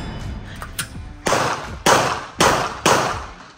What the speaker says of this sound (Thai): ยิงที่ลำต้นนี่ครับ